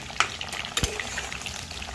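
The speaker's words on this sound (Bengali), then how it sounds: "ফুলকপিগুলো ভাজা হচ্ছে" Cauliflower pieces fry in hot oil with a steady close crackling sizzle, punctuated by a couple of brief sharper pops or utensil clicks.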